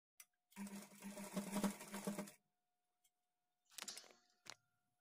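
A sewing machine stitches blouse fabric at a quarter-inch margin in a short run of rapid whirring, then stops and briefly whirs again, faint and close.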